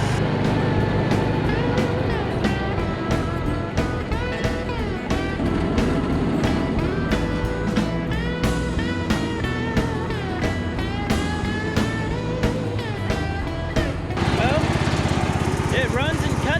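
A Husqvarna lawn mower engine runs at full throttle through thick grass while its governor is being tested, giving a loud, steady close-up drone broken by frequent sharp knocks and bursts.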